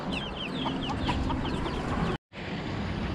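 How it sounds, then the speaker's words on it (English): Baby chickens on a beach in Barbados, several high chirps and cheeps repeating in quick bursts nearby, over a steady outdoor ambient wash, with a brief dropout near the end. "Oh my god, there's baby chickens."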